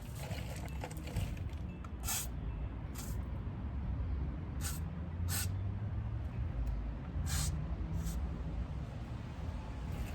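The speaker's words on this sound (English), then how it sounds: "I'm gonna just spray it down with some PB Blaster." Several short bursts of PB Blaster penetrating oil spray hiss at irregular intervals onto rear brake bolts of a 2017 Honda Accord, over a steady low rumble of background noise, fairly close.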